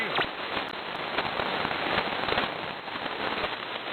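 Steady rain in Pensacola patters and hisses continuously, with scattered sharper drops popping through the wash of noise.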